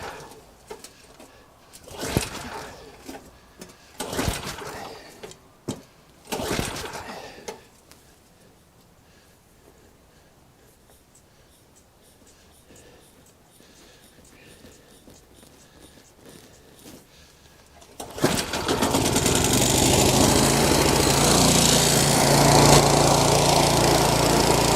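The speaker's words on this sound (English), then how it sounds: "it only took about a half a dozen or more pulls to get it started, but it is running" Small 179cc engine on an MTD Yard Machine 22-inch snow blower, heard first as several sharp pull-start attempts, then a quiet lull, then the engine catching and running with a loud, steady roar to the end.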